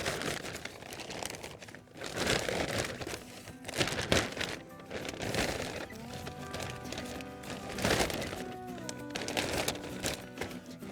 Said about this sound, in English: they are actually very good quality plastic bag, so I save it so I can reuse it for this purpose.